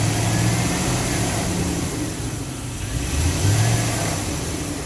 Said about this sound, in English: you can hear the air compressor down there rattling.